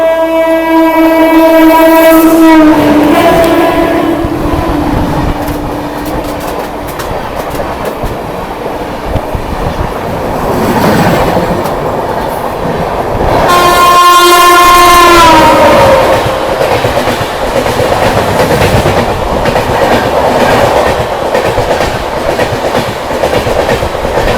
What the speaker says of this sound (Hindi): फ्लैट 130 पर अपनी ट्रेन बिल्कुल ताबड़तोड़ भाग रही है भाई